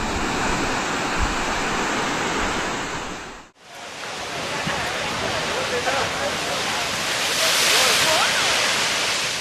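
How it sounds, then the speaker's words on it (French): Atlantic waves crash against the rocky shore at Boca do Inferno in Portugal, a loud, continuous roar of surf and spray with wind buffeting the microphone, briefly cutting out before the surging rush resumes. "Les vagues qui s'écrasent sur le rivage de l'Atlantique au Portugal sont d'une beauté saisissante."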